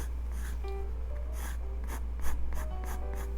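Pencil hair strokes on a portrait drawing, a series of short quick scratchy strokes on paper, close and fairly soft, in a rhythmic run of separate swipes.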